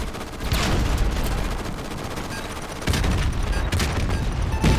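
Dense rapid gunfire crackles continuously, with bursts and heavier booms from tanks layered in a loud, chaotic battle in Modern Warfare Remastered; no voices stand out.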